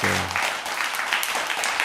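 Applause and clapping from a small audience during a live-looping music livestream, a brief burst of scattered claps heard close and fairly loud, with a short tonal note fading at the start.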